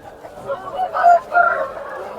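Sipai roosters for sale at the Gokavaram weekly village market let out a few short, close clucking calls in quick succession over a faint murmur of market noise.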